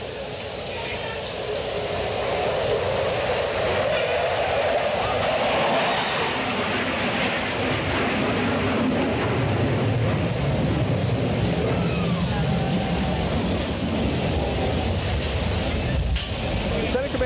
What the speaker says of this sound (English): Now from the right, the knife edge pass.